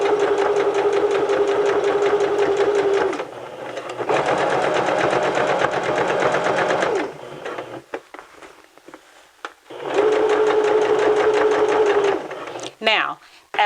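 Sewing machine running in steady bursts while stitching a seam on fabric, loud and close, with a pause and a short stop near the end; no speech over the stitching.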